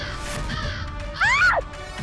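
A single crow gives one loud, clear caw against a quiet, steady indoor background, with no speech.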